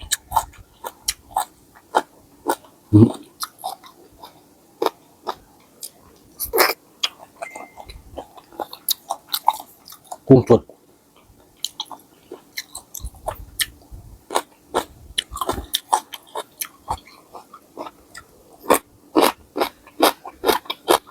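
Close-up crunching bites and chewing of a spicy Thai lotus stem salad with fresh shrimp, sharp irregular crunches and wet mouth sounds repeating over and over with quiet gaps between.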